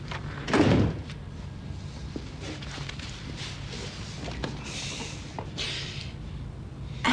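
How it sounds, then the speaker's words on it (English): An office door is shut with one firm thud near the start, followed by quieter room noise and faint movement. "Close the door."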